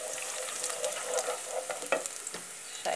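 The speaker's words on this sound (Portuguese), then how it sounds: "Deixar ele refogar aqui no meu azeite" Two cloves of chopped garlic sauté in olive oil in a pan, sending up a steady close sizzle that runs the whole time, with a few soft scrapes of stirring mixed in.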